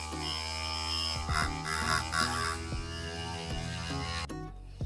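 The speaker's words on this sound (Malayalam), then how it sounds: "നമ്മുടെ ഡ്രില്ലിംഗ് മെഷീൻ ഉപയോഗിച്ച ഫിത്തി അത്യാവശ്യം നന്നായിട്ട് തന്നെ തുളയുന്നുണ്ട്" A homemade mini drilling machine runs with a steady electric motor hum, a strong tonal whine with harmonics that dips briefly a few times as it bores into putty, and then stops near the end.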